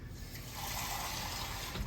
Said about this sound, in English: a little bit more water in here